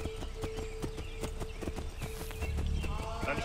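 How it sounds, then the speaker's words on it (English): Steady clip-clop of horse hooves in Assassin's Creed III, a regular trotting rhythm, close and clear, with a low rumbling background building toward the end. "Yes, I get a horse."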